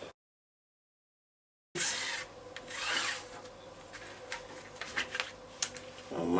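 Chalk or pencil marking fabric for a shirt-style bubu dress with a drawstring, heard as steady rasping strokes close by after a short silence, with occasional sharper scratches and taps.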